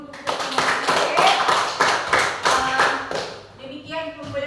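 A class of students claps hands together in a steady rhythmic pattern of sharp, close, fairly loud claps, which fade into brief voices at the end.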